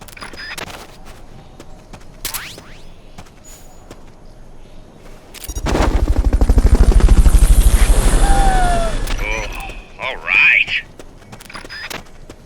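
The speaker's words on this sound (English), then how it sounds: "Fulton recovery subject confirmed onboard helicopter." Helicopter in the video game Metal Gear Solid Peace Walker, a loud pulsing rotor thump swelling in for several seconds then fading, set among game effects and a synthetic voice announcement.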